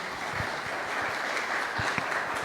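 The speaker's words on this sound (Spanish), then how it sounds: "le queremos dar la bienvenida con un fuerte aplauso" A church congregation gives a welcoming round of applause for a guest speaker, steady dense clapping filling the room at a moderate level for a couple of seconds with no talk over it.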